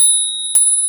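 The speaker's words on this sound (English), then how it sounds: "the beautiful spur bells from Spur Cycle" A Spur Cycle bicycle bell is struck once, a bright, clear, sustained metallic ring, close and loud, with a faint earlier ring still fading before the strike.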